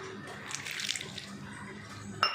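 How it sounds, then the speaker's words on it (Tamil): Water is poured into a South Indian spice mix of cumin powder, garam masala, coriander powder and lemon for mushroom 65, giving a brief, soft splashing trickle that ends in a small clink. "கொஞ்சம் வாட்டர் ஊற்றி"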